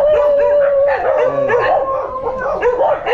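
Several dogs bark, yip and howl together at close range, a steady overlapping chorus with a sustained howl running underneath throughout.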